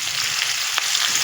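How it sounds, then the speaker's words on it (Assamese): Onions frying in a pan until golden, a close, steady crackling sizzle with bright spattering pops throughout and no voices. "ধুনীয়াকৈ গল্ডেন কালাৰ হোৱালৈকে পিঁয়াজখিনি ভাজি ল'ম।"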